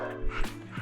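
A pet dog gives a quick, close yip or bark with a rising whine, short and moderately loud in an indoor room.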